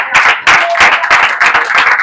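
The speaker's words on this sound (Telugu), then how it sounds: "చప్పట్లు కొట్టండి అందరూ." Loud, dense applause from a church congregation during a pastor's sermon, steady clapping bursts with a few stronger surges, close and continuous with no talk.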